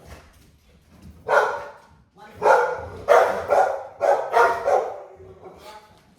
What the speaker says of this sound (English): my dogs have been going ballistic lately